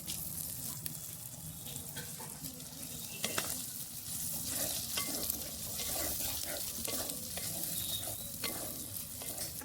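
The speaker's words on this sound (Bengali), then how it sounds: "এবার আমি এতে মাংস যে কুচি কুচি করে কেটে রেখেছিলাম ওটা দিয়ে দেবো।" Chopped chicken for ghugni goes into frying spice masala in a clay pot and is stirred, giving a constant close sizzle broken by scraping strokes and a few sharp clunks, with no talking.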